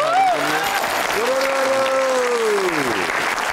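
A crowd claps loudly and continuously for a dhol player while a sustained sung or droned tone rises and falls over it.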